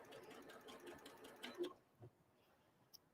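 Sewing machine stitching quilt block pieces for a pinwheel star, a quiet, steady whirring run of needle strokes lasting over a second before stopping, followed by a couple of soft handling clicks.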